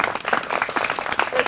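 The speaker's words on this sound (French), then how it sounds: "On peut l'applaudir" Short burst of scattered audience clapping for a performer named Apolline at a French outdoor street-theatre show, light, uneven claps heard close for a moment.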